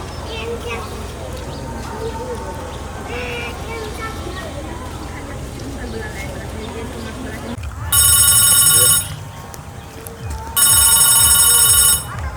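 A telephone rings twice in loud, shrill electronic bursts after a stretch of background voices and ambient noise.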